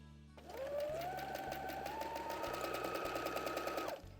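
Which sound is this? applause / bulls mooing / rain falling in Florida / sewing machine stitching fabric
sewing machine stitching fabric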